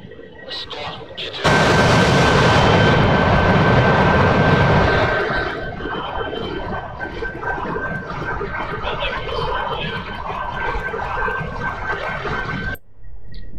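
Jet engine roar from an aircraft in the DCS World 2.2 flight simulator game: a loud, steady broadband rush with a thin high whine. It surges in suddenly, eases slightly after a few seconds, then holds until it cuts off near the end.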